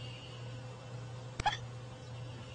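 A baby bat gives a single quick hiccup, a faint sharp click-like burst heard alone against a steady low background hum, with no talking.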